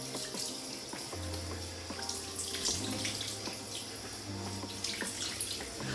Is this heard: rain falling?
no